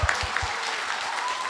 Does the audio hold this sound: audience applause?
yes